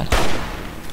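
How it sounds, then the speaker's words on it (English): A single hunting rifle gunshot in the video game Fallout 3, one sharp loud crack followed by a decaying echo tail. "let's use... the hunting rifle"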